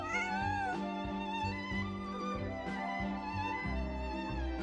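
A cat named Bonnie meows in the video game Genshin Impact, several drawn-out mews over a steady bed of background game music.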